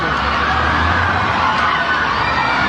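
A woman cheers amid a dense, continuous crowd roar that stays loud and steady for its whole short length.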